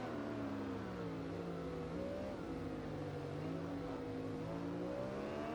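A motorcycle engine revs in the racing video game Ride 2, a loud, steady, close drone whose pitch rises and falls slightly as the throttle shifts, with no talking.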